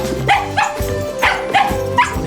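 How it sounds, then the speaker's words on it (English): A dog barks frantically at a window, four loud, close barks in a quick uneven rhythm, each with a yelping, slightly whiny edge. "Seeing this, Bailey can only run to the window and bark frantically at Ethan."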